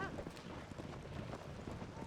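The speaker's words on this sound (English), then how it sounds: "I've got a wild horse here." Horse hooves clip-clop at a quick, steady gallop under faint wind and background noise in the video game Zelda: Tears of the Kingdom.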